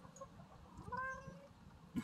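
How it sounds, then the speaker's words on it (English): A cat gives one faint, drawn-out meow in the middle of a storage unit bought at online auction, over low background rumble and rustling, with a brief knock at the end. "He's a wiggly, wiggly cat."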